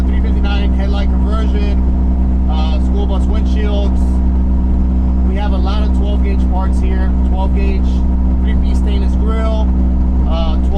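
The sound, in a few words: Peterbilt 359 glider truck engine running while driving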